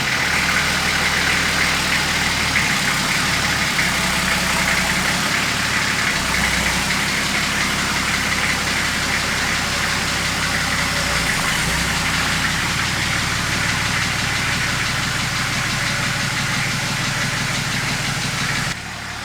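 A Nissan GQ Patrol 4WD idles steadily as it rolls slowly out of a shed, giving a continuous low, rumbling diesel-like drone with a faint rhythmic pulse and small shifts in engine note, heard close and loud.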